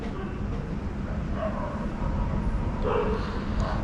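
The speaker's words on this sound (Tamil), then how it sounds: "நைட் டைம் எல்லா ஸ்ட்ரீட்லேயுமே நாய் குலைக்கும் தான், இருந்தாலும் வழக்கத்துக்கு மாறாக குலைக்குது" Dogs bark and yip at night out on a street, distant and muffled, a few scattered barks over a steady low background rumble.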